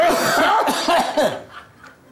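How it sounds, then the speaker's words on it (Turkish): A person coughs several times in quick succession during a comedic hospital examination sketch, close and fairly loud, then the sound trails off into quiet. "bir daha öksürün efendim"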